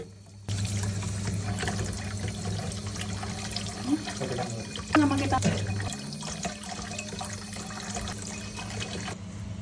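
Eggs are rinsed by hand for salted eggs under a running kitchen tap, the water flowing steadily with a low hum beneath, and occasional splashes and knocks as they are handled.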